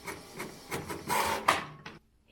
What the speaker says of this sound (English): So let's print it first.